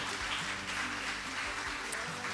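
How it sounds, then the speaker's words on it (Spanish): Applause from a church congregation at a volunteers' gathering, a steady dense wash of many hands clapping together at a moderate level without a break. "Denle un aplauso al Señor"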